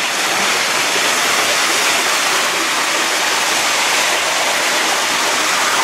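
Water from a courtyard fountain in a historic half-timbered town splashes and rushes in a steady, loud, even stream.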